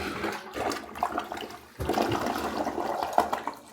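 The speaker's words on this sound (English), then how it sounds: "Flushes like a champ." A newly installed toilet flushes close by, its rushing water loud and steady with a brief dip partway through before the swirl surges again and continues.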